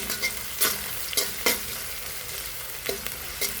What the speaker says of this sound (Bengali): আমার পেঁয়াজটা কাঁচামরিচটা একটু ভাজাভাজি হতে থাক।